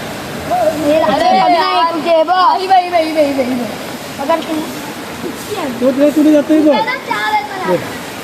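Floodwater after heavy rain pours over a bridge into a river, a steady broadband rush running beneath loud, excited voices that talk almost continuously throughout.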